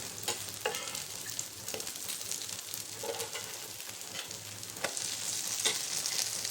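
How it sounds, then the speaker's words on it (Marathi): Sabudana vada pan-roasting until crisp gives a steady, soft sizzle with scattered small crackles and pops. It stays fairly quiet throughout, with no voices. "तर आता बघू वड्यांचं काय मस्त खमंग भाजले"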